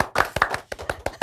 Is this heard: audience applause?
yes